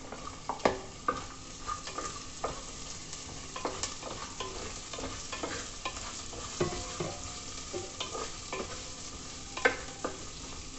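Drumsticks and onion fry in a pan for a Kerala prawn curry, a constant gentle sizzle broken by irregular spatula scrapes and taps, close up with no voices.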